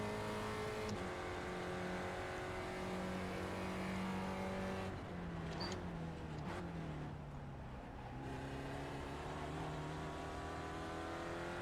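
Spec Racer Ford engine droning at Sebring in iRacing, a steady in-car hum with rising and falling pitch as the throttle eases through a corner, then climbing again.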